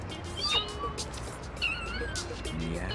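A cat meows in the No More Heroes video game, with several short mews rising over steady game background noise while a person talks throughout.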